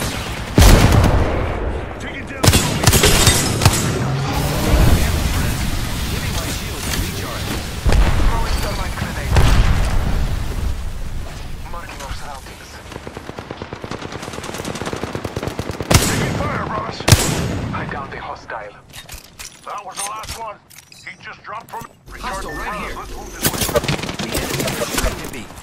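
Dense video game combat with continuous gunfire, automatic bursts and explosive booms, loud and near throughout, with grenades and an airstrike in the fight; a voice speaks intermittently over the shooting.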